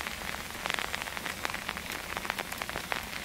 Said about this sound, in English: there's quite a bit of rain.